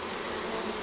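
Honeybees buzzing steadily and densely while being installed into a hive, a loud, close, continuous swarm hum with no pauses, no voices.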